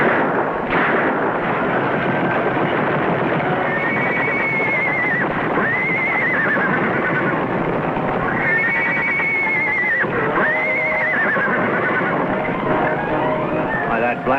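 A stallion gives repeated shrill whinnies over the rumble of galloping hooves and gunfire in a 1950s TV Western scene. The whinnies rise loud and clear above constant dense background noise.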